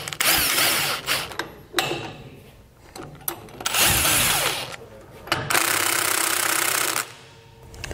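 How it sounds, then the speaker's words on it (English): A power tool spins in repeated short bursts with pauses between them, close and fairly loud, as it tightens the U-bolt nuts with a 23 mm socket on a Dexter trailer axle beam with E-Z Lube spindles. "Now we'll come back with a 23 millimeter socket and tighten these down evenly across both U-bolts."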